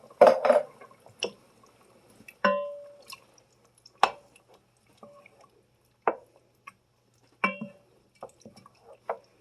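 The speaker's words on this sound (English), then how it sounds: "You're going to add the entire can of diced tomatoes, including its juices" A 14.5-ounce can of diced tomatoes and their juices is emptied into a Dutch oven for white chicken chili, giving scattered wet plops, drips and light metal clinks with quiet gaps between them and no talking.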